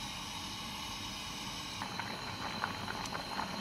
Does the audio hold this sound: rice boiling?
yes